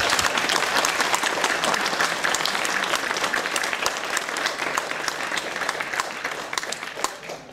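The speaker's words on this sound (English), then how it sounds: "you should clap another one more time for all these guys" A sustained round of audience clapping closes a technical open-source conference, dense and steady before thinning slightly toward the end, with no voices over it.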